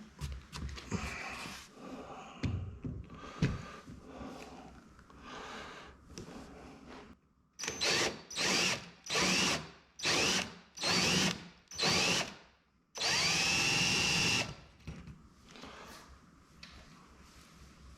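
A power drill bores holes for the door ferrules on a Factory Five MkIV Roadster, a few quieter starts and then a series of loud, short drilling bursts separated by brief pauses, ending in one longer run.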